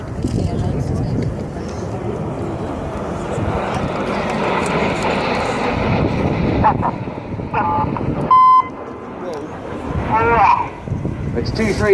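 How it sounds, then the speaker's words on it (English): Cockpit radio button beeps from Red Arrows jets during a display at the Yeovilton air day, a few short electronic tones cutting through the loud, continuous roar of jet aircraft, with a voice talking throughout. "The beeps you can hear aren't the pilots wearing. That's in fact a button we press in the cockpit when the other formation is using the radio"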